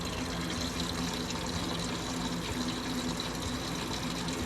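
Coolant draining from an engine hose on a 1991 Ford Ranger with a 2.9L V6, a steady faint gurgling liquid flow running continuously without pause.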